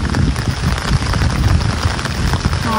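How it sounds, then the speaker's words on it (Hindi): Heavy rain pours down on a grassy, overgrown area near a hostel in Bhopal, a dense, loud, unbroken patter of drops close by with no voices. "यहाँ पे बहुत बारिश हो रही है"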